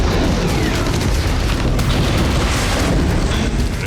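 Explosion at a drone depot in the Russia-Ukraine war, heard as a loud, sustained roaring blast with dense low rumble filling the whole stretch, distorted and overwhelming with no pauses.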